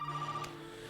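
Telephone ringing in the horror video game Resident Evil 7, heard as a steady electronic ring tone held across the whole moment at moderate volume, with no one speaking.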